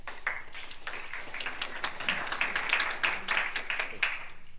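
Scattered hand clapping from an audience at a Republican political debate in San Francisco, moderate and uneven with individual claps standing out, fairly close and continuing briefly.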